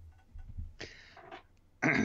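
A man clears his throat a couple of times, short rough rasping bursts with a louder final one, close and alone without speech.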